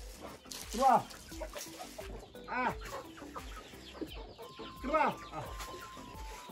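Chickens cluck in short, close bursts at a village farm, with several rising calls spread across the stretch. Other farmyard noises stay faint in the background.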